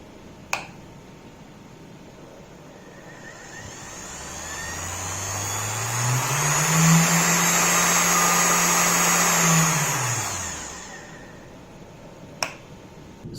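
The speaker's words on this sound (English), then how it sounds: "let's try this vacuum cleaner motor, 1000 watts. Okay. Let's increase the speed." A 1000 watt vacuum cleaner motor spins up, its whine climbing in pitch and loudness, holding a steady high hum, then winding back down; a sharp click marks the switch at the start and end.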